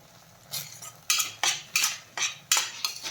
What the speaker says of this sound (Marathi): ग्रेव्ही 1 मिनिटभर छान अशी परतून घ्यायची